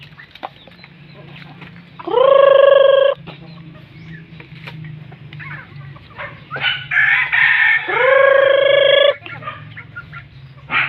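Two loud rooster crows ring out nearby, one after the other, amid scattered clucking and pecking sounds from a group of chickens.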